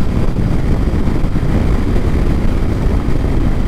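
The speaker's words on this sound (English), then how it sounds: "A lot of wind out here today." Heavy outdoor wind buffets the microphone in a steady, loud low rumble with no letup, recorded while measuring a car's speedometer error.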